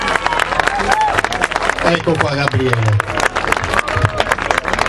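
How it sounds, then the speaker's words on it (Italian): An outdoor crowd at a historical siege re-enactment show in Mirabella Eclano claps in a dense, lively burst, while someone speaks over the applause. "Vogliamo fare un bel applauso"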